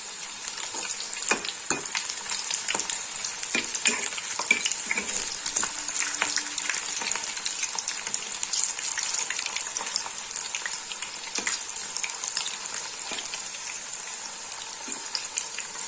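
Small kachki fish fritters frying in oil in a pan on a gas stove, a continuous bright, crackling sizzle with scattered pops, close and steady throughout.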